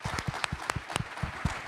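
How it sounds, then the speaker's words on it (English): Sparse, fairly faint hand claps ring out in a hall at a BUILD24 event in Vancouver, a thin scattering of individual claps rather than a full wave of applause, with no talk over them. "So round of applause for that"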